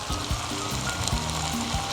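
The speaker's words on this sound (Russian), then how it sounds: "Периодически помешивая, начинаем обжаривать." Chicken and vegetables fry in oiled pan, a steady close sizzle running through the whole stretch with occasional soft stirring scrapes and no talk.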